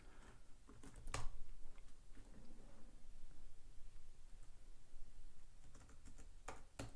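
Soft, steady tapping of a computer keyboard as someone types Ajax code for a Django web app, with a few sharper key clicks standing out above a low, continuous background hiss.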